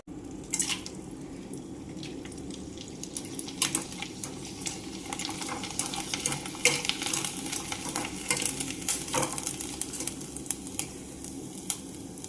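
Onion sandige fritters frying in hot oil, a steady close crackling sizzle with occasional stirring scrapes and small pops, no voices.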